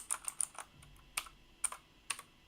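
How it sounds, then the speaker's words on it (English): Someone types on a new mechanical computer keyboard, giving short sharp clicky keystrokes in small scattered bursts, close and fairly quiet with no talking. "I've never had a mechanical keyboard before"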